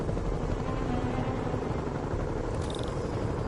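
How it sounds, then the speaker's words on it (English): In a Spider-Man video game, helicopter rotors produce a dense, loud, continuous low throbbing roar that fills the scene without a break, with no talk over it. "Bet I can use those helicopters to swing."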